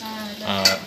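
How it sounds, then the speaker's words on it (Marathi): Garlic tempering fries in hot oil in a cooking pot, giving a brief, close, steady sizzle with a faint stirring scrape, no voices. "लसूणची फोडणी दिली।"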